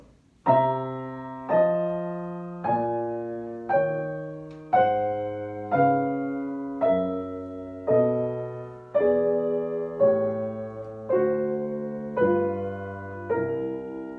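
Piano major and dominant ninth chords struck one after another at a steady pace, each stepping down by a half step, ringing out clearly with no voices.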